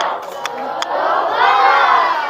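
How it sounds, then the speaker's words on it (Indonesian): A room of tenth-grade students performs a spirit clap chant during a classroom guidance session: a couple of sharp claps, then loud shouting in unison that swells and holds. "Tepuk semangat."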